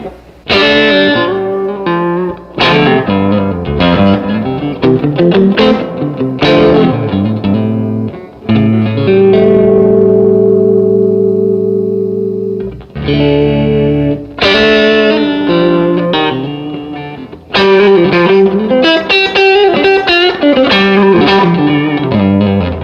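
A baritone Telecaster-style electric guitar plays chords and riffs through an amp, strummed in bursts with a few sustained notes and brief pauses between phrases.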